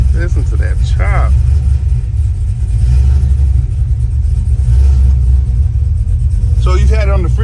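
A rough, choppy engine idle rumbles loudly and steadily close by in a metal fabrication shop setting, with short bursts of people talking over it at the start and end.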